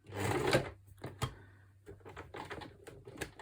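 A home sewing machine worked by a foot pedal, set to its smallest stitch and running stiff, gives short bursts of clattering, rapid stitching separated by brief pauses, close and fairly quiet with no talking.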